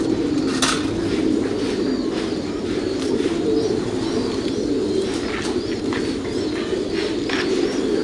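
Thai Titan pigeons coo continuously in a breeding loft, a dense layered murmur of low throaty calls with occasional higher chirps and faint clinks, loud and steady throughout.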